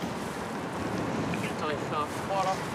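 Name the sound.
icy wind blowing in Paris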